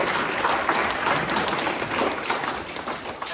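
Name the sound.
applause for the anniversary party organizers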